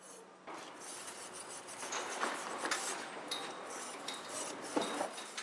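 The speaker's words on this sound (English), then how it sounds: "This needs to be removed with a wire brush." A wire brush scrubs dust from the sidewall of a drilled hole for rebar, giving close, raspy scraping strokes in an uneven rhythm with a few sharper metallic scratches and no talk.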